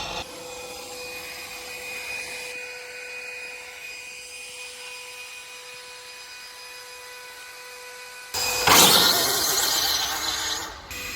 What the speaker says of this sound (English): So the wheelie bar is pretty much, you can hear it constantly touching.